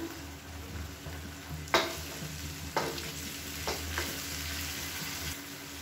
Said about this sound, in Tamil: வந்து கொதிக்கட்டும்.